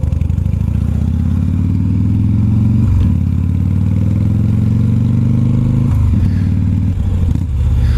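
An old Harley-Davidson Evo motorcycle engine runs loud and close, its lumpy idle swelling into several revs with brief dips between throttle blips, alone with no talk.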